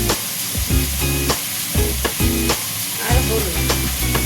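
Taro chunks with salt fry in a pan for a katla fish curry, a loud close sizzle broken by repeated scraping stirs in an uneven rhythm.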